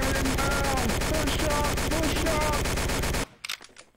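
Dense, continuous automatic gunfire fills a video game battle as a cavalry division attacks a town, rapid loud bursts under shouting voices, then cutting off abruptly into a few scattered distant shots.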